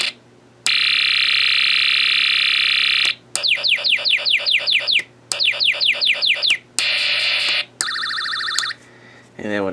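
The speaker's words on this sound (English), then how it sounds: "Get all kinds of sound effects." A Snap Circuits Spacewar integrated circuit, triggered by push button, sounds a series of loud electronic effects: a steady alarm tone, then fast pulsing bursts with a ringing, repeating quality and short silences between them.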